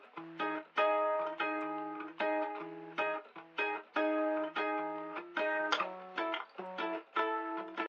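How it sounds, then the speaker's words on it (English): Intro guitar in a song mix, filtered to a thin telephone-like tone: a bright, rhythmic picked pattern of repeated chords in short bursts, clean and upfront with no vocals. "we have the intro guitar that sounds something like this"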